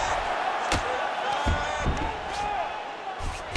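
An arena crowd roars steadily in the UFC 5 fighting game as two fighters scramble back to their feet, with thuds of strikes and a commentator's voice over the cheering.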